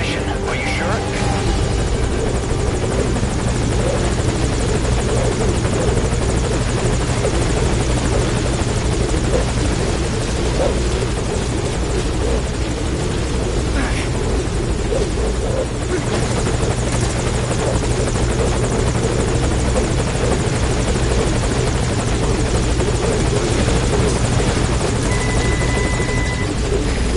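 A video game helicopter in Metal Gear Solid V Ground Zeroes, a loud continuous rotor thrum and engine drone that holds steady throughout with no pauses.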